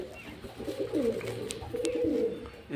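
Several old home-loft pigeons coo nearby, a few soft, low rolling calls rising and falling over faint background noise.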